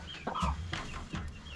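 Chickens and roosters cluck in a coop in several short, moderately quiet calls. A low ambient hum sits underneath and no one speaks.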